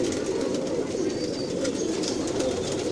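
A female Rampuri pigeon coos in soft, low, repeated murmuring calls, close by, amid faint background noise.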